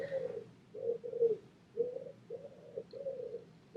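Pigeons coo close by in a soft, repeated low rhythm, each throaty call following the last with brief pauses.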